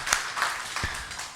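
A church congregation at a Sunday morning worship service claps briefly, a few scattered, moderately faint claps rather than full sustained applause.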